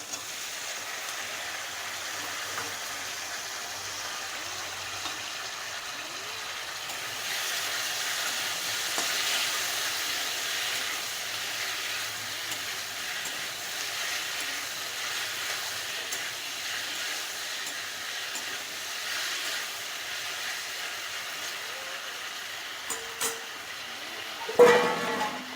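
Taro stolons fry in a pan with tomato and chili, giving a steady, soft hissing sizzle throughout, with a short clatter near the end.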